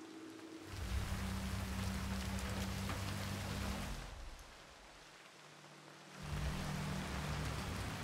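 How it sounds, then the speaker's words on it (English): Rain in a video game: a dense, steady hiss of rainfall with a low rumbling bed that fades briefly near the middle before returning, fairly quiet, with no talking. "I'm never going out in the rain again."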